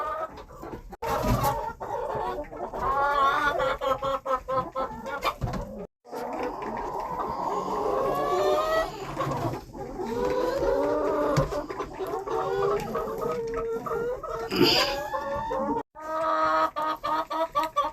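Several chickens cluck and squawk up close in a coop, with varied calls overlapping continuously and a brief loud burst partway through.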